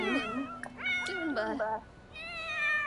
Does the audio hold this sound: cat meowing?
yes